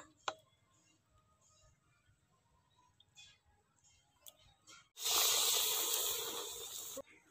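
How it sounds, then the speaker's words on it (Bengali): Egg pieces dipped in coating batter drop into hot oil, setting off a sudden loud, bright sizzle after a quiet stretch with faint clicks, then the hiss steadily fades for about two seconds before cutting off. "ডিম ভাজার পিসগুলো এর মধ্যে ডুবিয়ে ভালো করে প্রলেপ দিয়ে তেলের মধ্যে দিয়ে দেব।"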